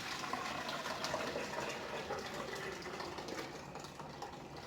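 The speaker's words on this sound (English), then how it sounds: "I'm just going to pour it right down through that colander" Sumac juice being poured from a container down through a colander, a steady broadband gush and splash of liquid that runs without a break at close range, with no voices.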